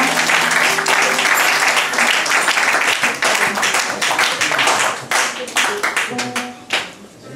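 Loud, dense applause and cheering from a congregation at an evangelical church's New Year's Eve prayer vigil, close and continuous before thinning out toward the end, with voices calling out over the clapping.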